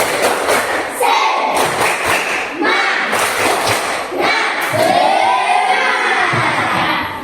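A classroom of children does a rhythmic clapping chant, sharp claps thudding in patterned bursts with shouted voices over several seconds, close and loud.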